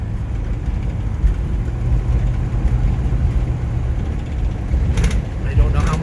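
Inside a 1953 Buick Roadmaster woody wagon on the move, a steady low engine drone and road rumble fill the cabin, with faint wind noise on top.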